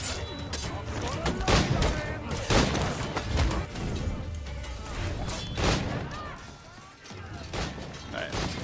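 Gunfire from Assassin's Creed IV Black Flag, a run of loud, dense shots and crashing impacts in a chaotic battle, with a voice talking over parts of it.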